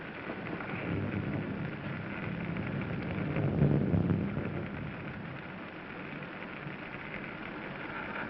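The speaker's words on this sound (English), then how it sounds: "It's raining." Rain falls steadily outside, a soft continuous hiss with a low thunder rumble swelling briefly near the middle, faint and distant with no talk.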